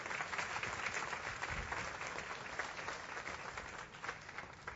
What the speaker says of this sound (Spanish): Usted lo puede aplaudir mejor, iglesia